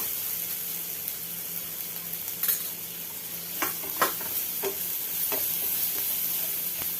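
Ground turmeric, cumin and coriander powder sauté in a pan, giving a steady soft sizzle broken by several sharp scrapes and taps of a spoon stirring, up close with no voices.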